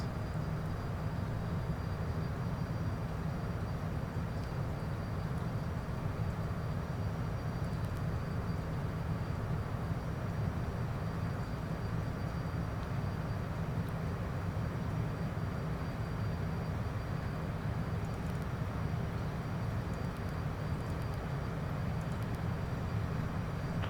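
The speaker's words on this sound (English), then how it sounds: "We're gonna reduce our throttle." Steady, continuous aircraft engine drone at reduced throttle in Microsoft Flight Simulator 2024, a constant low hum with faint higher tones, no voices, holding even level throughout.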